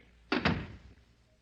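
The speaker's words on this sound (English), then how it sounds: "Close the door." An office door being shut, two quick solid thunks close together that fade into a short low resonance, close and fairly loud with no talking.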